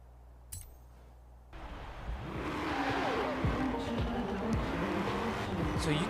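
An all-wheel drive car in Forza Horizon 4 launches from a quiet start, its engine note rising into a loud sustained roar with a short tire scrabble as it pulls away.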